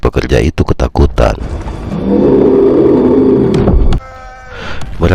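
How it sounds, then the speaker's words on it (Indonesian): A huge monster, the troll from the 2022 film Troll, lets out a loud, sustained roar echoing in a tunnel, preceded by a burst of sharp impacts and followed by a quieter rumbling tail. "terdengar suara raungan yang begitu keras hingga membuat para pekerja itu ketakutan"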